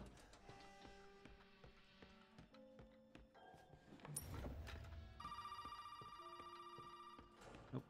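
Telephone ringing in the survival horror game Resident Evil 7, a faint repeating electronic ring that grows more insistent and steady in the second half, amid quiet mechanical in-game clicks and tones.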